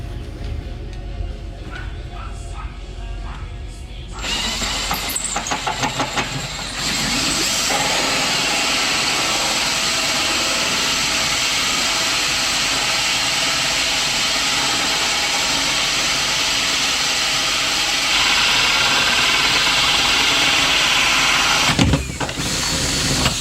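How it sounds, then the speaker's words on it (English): Power drill boring holes through the cored hull of a home-built boat, a steady loud whine running on for long stretches with brief starts and stops. "It's kind of crazy to drill holes in a perfectly good boat."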